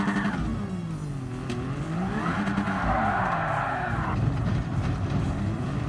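Gr.X race car in Gran Turismo Sport with traction control off, tyres spinning and squealing under heavy throttle, the engine note rising and falling in a wavering wail for several seconds.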